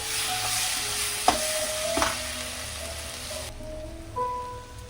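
Cumin, pepper powder and turmeric frying in a pan for a mango rice dish, a soft continuous sizzle with a few sharp stirring clinks and scrapes.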